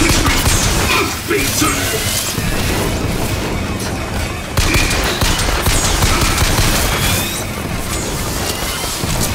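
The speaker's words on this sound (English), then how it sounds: "Gosh, it's grenade!" A grenade explodes during a crowded firefight in BioShock Infinite, with heavy booms, crashes and rapid gunfire forming a loud, continuous barrage. A voice is faintly present under it.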